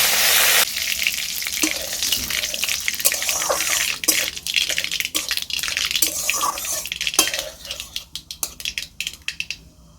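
Whole cumin, mustard seeds and curry leaves hit hot oil for a flattened-rice chire pulao, giving a loud, dense sizzle with sharp crackling pops that thins and sputters out toward the end, with no voices.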